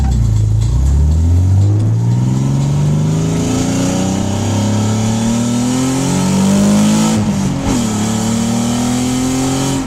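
A Nissan Z car with a leaking exhaust header and a high-mileage engine revs loud and close, its pitch rising and falling in repeated sweeps with a raspy, leaky exhaust note and no talking.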